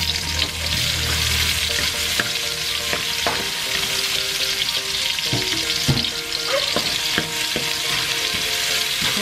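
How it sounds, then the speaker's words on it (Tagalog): Onions and garlic sauté in a hot pan for chicken curry with coconut cream, a loud continuous sizzle broken by scraping stirs and clinks from a utensil. "Saute it until the onions will be translucent."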